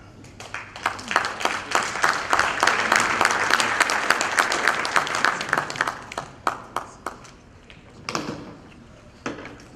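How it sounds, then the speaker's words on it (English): A seated audience at an education summit breaks into sustained applause, loud and dense through the middle, then thins into scattered individual claps toward the end, with no talking over it. "Let's give him a hand of applause."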